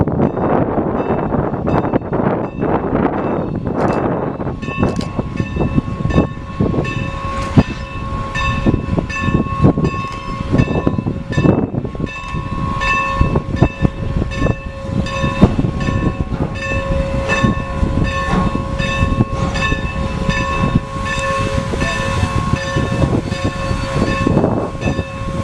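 A train on the Strasburg Rail Road, led by Norfolk and Western 475, rumbles past on a very windy day, with steady rolling noise, sustained whistle tones and wind buffeting the microphone.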